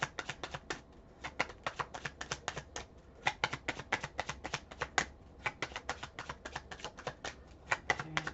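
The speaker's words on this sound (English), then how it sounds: "Tell me when to stop shuffling." A deck of cards is shuffled by hand in quick bursts of crisp, rapid riffling clicks, faint and close, repeating in short rhythmic runs without talk.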